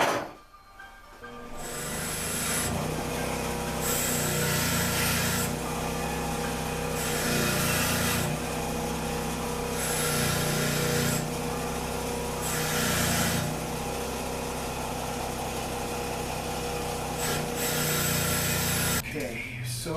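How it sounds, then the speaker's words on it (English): Wire wheel cleaning a part from a Stihl TS 700 power saw, a loud continuous whirring grind with rising and falling harsh bursts as the part is pressed against it, steady for the whole stretch. "Let me put this under a wire wheel real quick to clean it out a little bit more."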